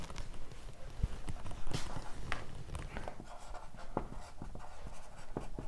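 Writing on a board during a Class 10 science lecture on heredity: scratchy, irregular strokes in short bursts, fairly close and moderately loud, with no speech over them.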